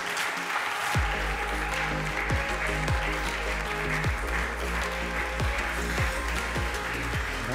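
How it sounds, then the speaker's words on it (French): Audience applause at a book-trade award ceremony, with steady dense clapping and a band or music playing beneath, sustained at a moderate level throughout. "Je vous demande d'applaudir Sylvain Sérène"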